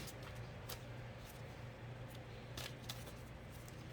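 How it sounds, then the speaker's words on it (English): Soft, quiet riffling and flicking of tarot cards being shuffled, a series of brief papery bursts at close range with no voices. "give this a good shuffle"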